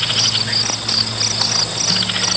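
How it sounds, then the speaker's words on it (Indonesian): Crickets and other night insects trill steadily in a dense, continuous chorus, with faint low hum beneath and no voices. "Sesekali terdengar bunyi jangkrik dan serangga malam lainnya"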